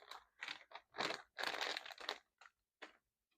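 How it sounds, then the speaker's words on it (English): Frozen waffle-cut fries tumble into a metal pan in a series of close, crunchy rattling clatters that thin out toward the end, with no talk. "let's just dump these fries in a metal pan."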